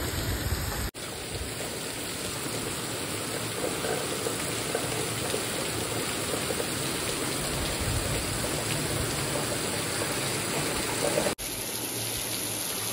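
Heavy monsoon rain pouring steadily, a dense, loud, unbroken hiss of water with no voices, cut by brief breaks near the start and end.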